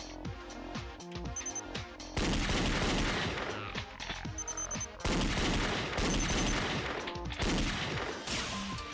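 Gunfire in the video game Danganronpa Another: Despair Academy, rapid bursts of sharp shots in repeated loud volleys with brief pauses between, alone without talk.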